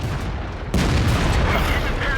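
Heavy boom of a tank cannon firing in World of Tanks, a loud blast partway through followed by a rumbling sustained tail, over constant dense game noise.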